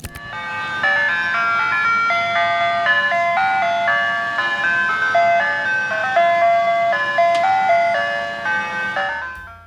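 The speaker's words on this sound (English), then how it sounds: "the cheerful jingle of an ice cream truck was the soundtrack of summer for kids across the neighborhood" An ice cream truck plays its cheerful jingle, a loud, bright melody of repeating electronic notes that runs continuously from start to finish with no voices over it.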